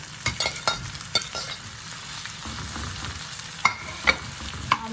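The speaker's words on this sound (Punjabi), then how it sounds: "ਹੁਣ ਆਪਾਂ ਚੰਗੀ ਤਰ੍ਹਾਂ ਮਸਾਲਿਆਂ ਦੇ ਵਿੱਚ ਮਿਕਸ ਕਰ ਦਾਂਗੇ" Mashed potatoes are stirred into sizzling spices in a pan for a dosa filling, with steady frying hiss and a few sharp spoon scrapes and clinks, close up.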